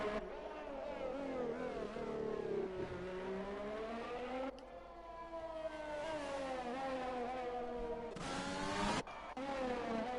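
A racing car in a video game, driving the Azerbaijan circuit on soft tyres during a qualifying session, sustains a loud engine whine that rises and falls steadily, with a sharp high burst near the end as it crosses the line.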